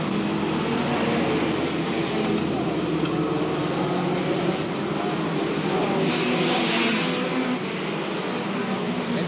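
Hot rod race cars in a 1974 world final thunder past on a wet track, a loud continuous roar with hissing spray, with a commentator talking over the noise.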